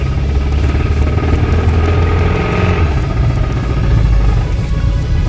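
A Toyota engine with rod knock runs steadily, producing a loud, continuous low rumble with a fast, rough pulsing throughout and no talking.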